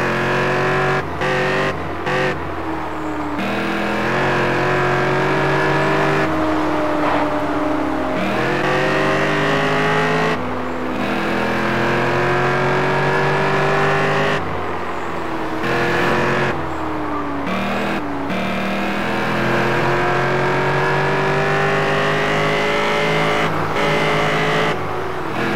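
A Stingray 69 car driven in Test Drive Unlimited, its engine droning loudly throughout with repeated rising revs as it shifts up through the gears, and brief drops as it slows between them.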